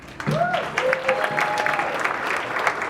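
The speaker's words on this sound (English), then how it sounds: "give a warm round of applause for Trey with Yay Stack" Audience applause at a startup meetup, a steady wash of many hands clapping for a sponsor, with some voices rising over it.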